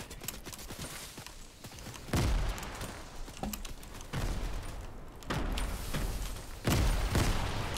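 Grenade explosions in a video game: four heavy, booming blasts land a second or two apart over constant crackling gunfire, loud and close, with no talking.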